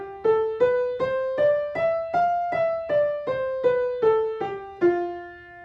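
A single melodic instrument plays a Lydian mode scale, eleven evenly spaced plucked or struck notes climbing then descending and ending on a held final tone, clear and alone.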